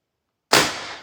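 A single sharp, loud shot from an FSC truck carbine fitted with an XL power block cracks out after a brief silence and decays quickly, with no talk.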